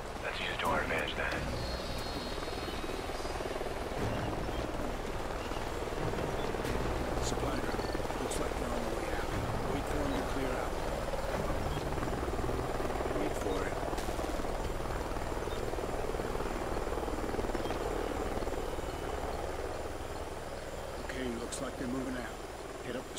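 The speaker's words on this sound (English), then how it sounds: "Sounds like a chopper's up ahead of us." A military helicopter in the Call of Duty Ghosts game, its rotor a faint continuous drone in a canyon by a river, heard steadily under radio chatter and voices.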